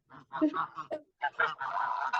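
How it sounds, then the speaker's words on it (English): Geese and ducks honk loudly nearby in a quick, overlapping series of nasal calls, some blending into a longer, strained honk. "you're hearing now my ducks, my geese"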